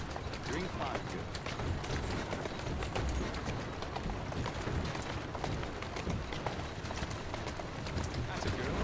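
Horse hooves galloping in the video game Assassin's Creed Syndicate, a dense, steady drumming of hoofbeats blended into continuous loud game ambience with no pauses.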